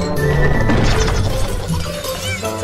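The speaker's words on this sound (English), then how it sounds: "Oh, hey, Shrek, I didn't hear you come in with all that smashing, bashing, and crashing" Loud smashing and crashing in a Shrek SuperSlam video game cutscene, a dense continuous clatter of impacts and breaking objects with bright metallic ringing mixed in.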